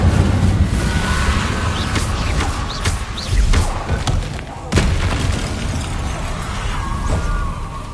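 Incendio fire spell casts in Hogwarts Legacy, whooshing fiery bursts with a couple of sharper booming hits over a roaring, wind-like rumble, with talk heard in between.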